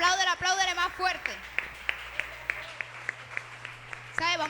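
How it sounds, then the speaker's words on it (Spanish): At a Sunday church service, the congregation keeps clapping louder, a steady rhythmic beat of distinct claps between stretches of a voice speaking or singing. "apláudele más fuerte"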